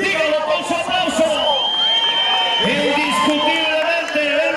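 A rodeo crowd at a jaripeo in Santiago Azajo, Morelos, cheering and whooping in a loud, sustained roar with overlapping shouts, close and dense throughout.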